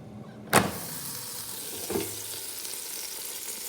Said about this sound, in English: I can hear it sizzling in there.